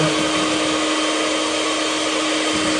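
An electric mixer whirs steadily at low speed through cake batter with flour for a cinnamon pie, a continuous close motor hum and whine with no pauses.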